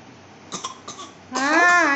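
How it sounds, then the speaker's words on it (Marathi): Two short coughs from a child at home during a meal, the second followed by a louder, rougher cough with a hoarse vocal edge, close to the microphone. "एकाला खोकला येते दुसऱ्याला खोकला."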